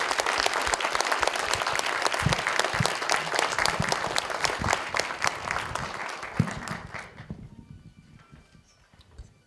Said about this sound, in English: give them a round of applause for the job that they do